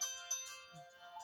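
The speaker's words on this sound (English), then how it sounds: "that's my phone ringing again" A mobile phone rings indoors with a steady, faint electronic ringtone, alone and without any talk.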